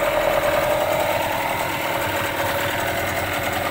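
A small ALLFA CG 9.9/15 hp outboard motor runs close by with a steady, buzzing drone and rapid rhythmic chugging, continuous throughout.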